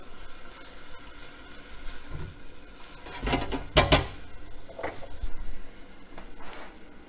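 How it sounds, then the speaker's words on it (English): Ground meat and onions browning in a pan with no added grease, giving a soft steady sizzle with a few louder clinks and scrapes of a utensil against the pan, close up and with no talking. "we'll just go ahead and brown the meat for a little bit with the onions"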